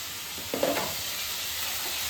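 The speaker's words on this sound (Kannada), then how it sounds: "ಬರೀ ಈರುಳ್ಳಿ ಹಾಕ್ಬಿಟ್ಟು ಮಾತ್ರ ಹಂಗೆ ಫ್ರೈ ಮಾಡ್ತಾ ಇದ್ದಾರೆ" Onions fry alone in a pan with a steady, close sizzle. Near the middle there is a short scrape of stirring, and no voices are heard.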